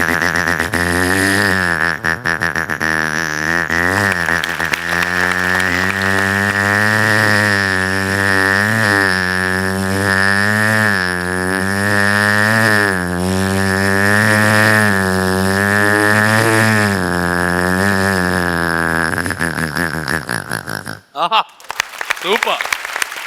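A voice mimics a motorcycle roaring around a well of death at a comedy show. A loud, sustained buzzing drone rises and falls in pitch like revving laps for about twenty seconds, then breaks off into a rough burst.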